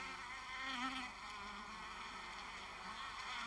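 Honeybees buzz at the entrance of a hive or observation hive as foragers constantly land and take off, a dense, steady hum of many wings close by without voices.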